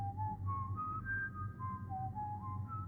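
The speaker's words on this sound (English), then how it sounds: "and then the whistling began." A lone, eerie whistled tune drifts up and down in slow sustained notes, fairly quiet over a low background hum, serving as a sound effect in a scary story.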